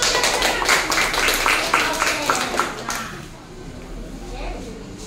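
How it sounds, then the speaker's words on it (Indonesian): A classroom group claps in quick rhythmic bursts that fade after about three seconds, with children's voices chattering over the noise. "Tepuk tangan dulu untuk kelompok 3."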